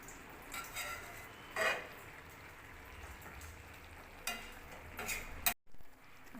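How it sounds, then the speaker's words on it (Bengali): Tomato stirred and frying with boiled eggplant in a pan, a soft steady sizzle under scattered scrapes and clinks of a spoon against the pan. "এখন আমি টমেটোটা দিয়ে দিলাম। এখন একটু নাড়াচাড়া করে ভালো করে কষিয়ে নেব।"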